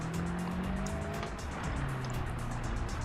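A ZAZ Tavria car rolls over a rough, bumpy road, its engine droning steadily with low rumbling and clattering from the suspension throughout, loud and close with no talking.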